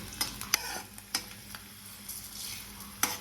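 Coriander seeds frying in a little oil in a pan, a soft steady sizzle broken by a few sharp clicks and stirring taps, close and fairly quiet, with no one talking.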